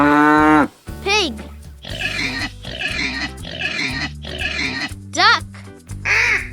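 A pig oinks and grunts in a run of several close, loud bursts over a steady music bed, with brief rising whistle-like cartoon sounds between them.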